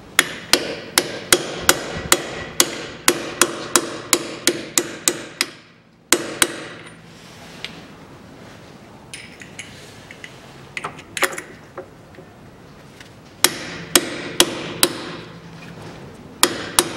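A steel hammer strikes a 27 mm socket to drive new rubber caps onto a Daewoo Nexia 1.5 front brake caliper from 2001. Sharp metallic blows come in quick runs, pause with faint handling noise, then resume in a steady rhythm.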